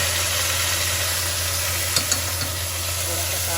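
Ground tomato, onion and garlic paste with spices goes into browned onions for aloo gosht, giving a steady, close frying sizzle with a couple of brief stirring clinks.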